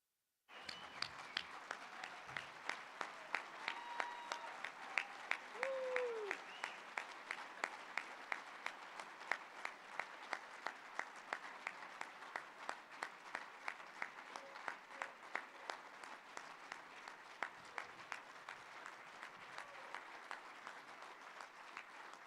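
Sustained applause fills a hall at the National Mining Hall of Fame induction ceremony as an inductee is honored, steady dense clapping from a large audience that swells briefly and carries on for over twenty seconds, with a faint voice underneath.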